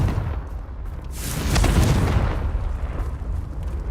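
A Confringo blast spell goes off in Hogwarts Legacy, a deep rumbling explosion that swells and peaks mid-clip, then trails off into a lingering low roar.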